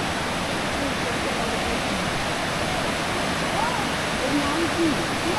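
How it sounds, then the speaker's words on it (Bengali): Tirathgarh waterfall pours down with a steady, broad rushing roar that fills the scene evenly, with faint voices briefly audible near the end. "তিরথগড় ওয়াটারফল।"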